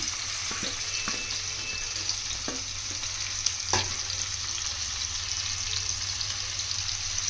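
Onions and green chillies sizzle steadily in a hot pan, with a few stirring clicks and scrapes over a constant close frying hiss and no talk.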